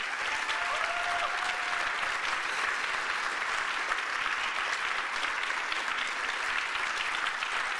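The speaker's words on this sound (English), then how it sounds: "can we all do another round of applause for Ben and Martin?" A concert audience at a benefit show gives steady, sustained applause for two performers after their set, an even wash of many hands clapping throughout.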